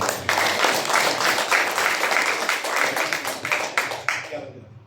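A crowd at a Prabhu Kripa Dukh Nivaran Samagam spiritual gathering in Pune, India, claps in welcome: dense, sustained applause filling the hall for several seconds before fading out at the end.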